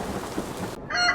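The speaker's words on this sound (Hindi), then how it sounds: "बादल की गरज थी।" Cartoon thunder rolls from clouds over a forest at night, a loud, broad rumbling crash lasting under a second before it cuts off and a brighter, thinner sound takes over.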